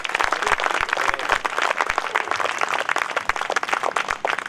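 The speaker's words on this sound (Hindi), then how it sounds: "एक बार तालियां स्वयं के लिए बजा लीजिए।" Audience at a comedy poetry show applauding, a steady, dense roar of many hands clapping throughout, loud and even with sharp individual claps standing out near the front.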